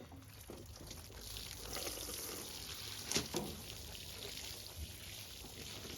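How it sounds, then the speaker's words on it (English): Water poured over seedling cells in a tray, a soft continuous trickle and splash running throughout, fairly faint, with a brief louder spatter partway through. "now we're gonna water it"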